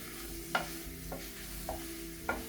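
Spicy potatoes are stirred in a pan, with four scraping strokes spaced about half a second apart over a low, steady sizzle.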